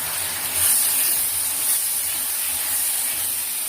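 Chopped tomatoes hit a pan of frying onions and capsicum for a tomato gojju rice, and a loud, steady sizzle and hiss carries on without a break.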